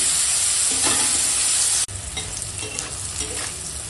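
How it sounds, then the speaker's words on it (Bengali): Bitter gourd fries loudly in a pan with a bright, constant sizzle and stirring scrapes, cut by a brief break partway, after which the sizzling continues slightly lower. "আর এখন দেখো উচ্ছেটা এরকম হালকা ভাজা হয়েছে"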